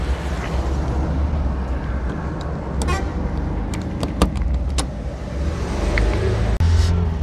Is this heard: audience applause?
no